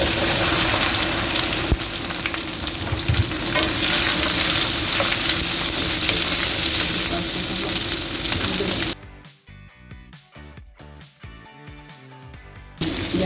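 Okra dropped into hot canola oil, a loud, dense, steady frying sizzle for about nine seconds that stops abruptly, leaving soft background music.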